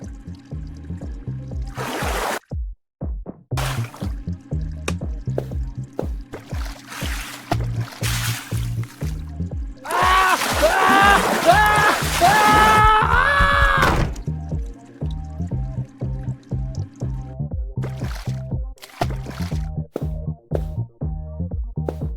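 Water sloshing and running in a horror puzzle game, with a steady rhythmic tick pattern throughout and a louder rushing, bubbling burst of liquid in the middle before the quieter drips and ticks return.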